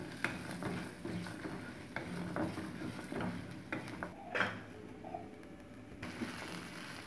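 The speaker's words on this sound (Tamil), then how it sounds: "இப்போ இது எல்லாத்தையும் ஸ்லோ ஃப்ளேமில் அப்படியே ஃப்ரை பண்ணிடலாங்க" Adamant creeper is frying on a slow flame with shallots, garlic and tamarind, giving off a low, steady sizzle. Close spoon scrapes and stirring knocks against the pan recur irregularly throughout.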